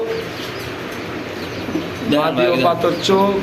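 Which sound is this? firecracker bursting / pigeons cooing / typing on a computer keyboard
pigeons cooing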